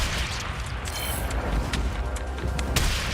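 A deep, rumbling blast from a Warframe explosion, followed by dense crackling debris and a few sharp bangs, loud and continuous with no talk.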